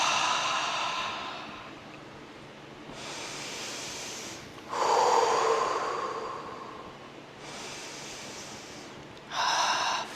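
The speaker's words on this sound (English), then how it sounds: "Taking some nice deep breaths. You may like to exhale through the mouth." Several deep, slow breaths during a calm standing relaxation, with long airy exhales through the mouth alternating with quieter inhales. They are close, breathy and hissing, with no talk.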